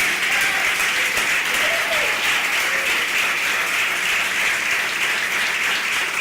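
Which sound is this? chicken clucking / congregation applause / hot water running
congregation applause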